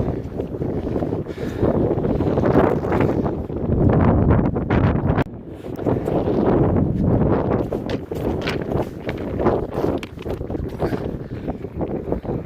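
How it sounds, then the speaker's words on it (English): Steady wind buffeting a microphone near the top of the Great Orme, Llandudno, a loud continuous low rumble with gusty swells and brief dips, no voices. "It's getting windy now."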